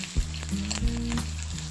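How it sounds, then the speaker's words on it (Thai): Shrimp and garlic stir-frying in a hot pan, a steady close sizzle broken by a few sharp scraping stir strokes, with no talking. "ทำการผัด กุ้งกับกระเทียมนะครับให้เข้ากันให้มีความหอมมากขึ้นนะครับ"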